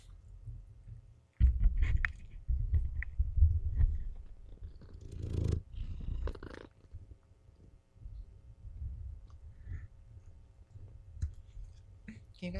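A cat purrs up close in rough, rumbling bursts that swell and fade in uneven waves, with a few soft clicks and rustles between them.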